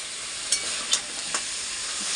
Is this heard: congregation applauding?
no